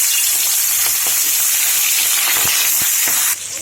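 Hilsa fish frying in hot mustard oil, a dense close sizzle with occasional pops and crackles that suddenly drops lower near the end.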